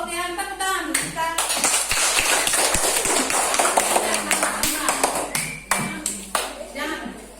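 A group of students in a classroom clapping hands in short bursts and patterned rhythmic claps, mixed with taps and children's voices and chatter throughout.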